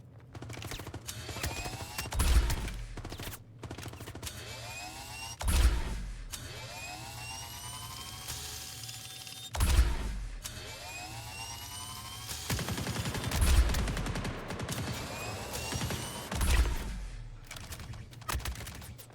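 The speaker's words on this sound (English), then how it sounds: "Who's still shooting at me?" Gunfire from the space game Star Citizen: repeated heavy bursts and single shots at irregular intervals over a constant humming, mechanical engine drone, with no talking.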